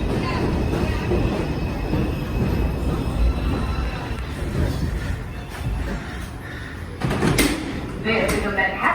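A Manhattan-bound 5 local subway train rumbles through 174th Street station, a loud, steady roar with rattling, rising toward hissing, squeals and door sounds near the end.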